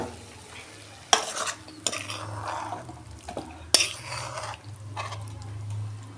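Cooked spinach curry is scraped and poured from a pot, with a few sharp metal clanks of a spoon against the rim over a low steady sizzle and soft stirring sounds.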